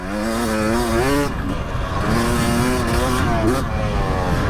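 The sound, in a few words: Husqvarna two-stroke injection motorcycle engine revving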